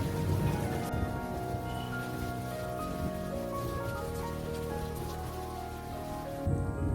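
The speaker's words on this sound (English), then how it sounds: "since the rain eased off a bit" Rain falls steadily in the Jawhar hills in windy weather, a close, dense hiss of drops drumming on a surface, with no voices.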